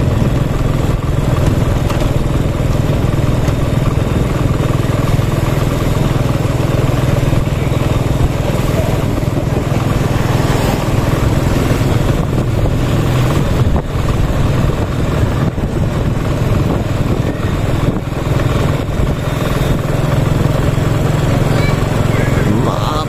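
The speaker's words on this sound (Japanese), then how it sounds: "昼間の時間にこんだけね車が通ってる" Daytime road traffic in Vang Vieng, Laos, a steady close rumble of motorbikes and cars idling and passing continuously, with someone speaking over the engine noise.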